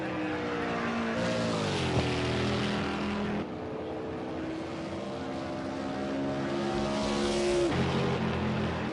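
Several race cars lap Indianapolis in a sim racing Brickyard 500, their engines holding a loud, continuous drone with pitch sweeps as cars shift and pass, steady throughout.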